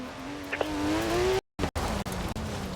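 A car engine drones and revs loudly in the Forza Horizon racing video game, its pitch slowly climbing, then cutting out briefly before the engine note carries on.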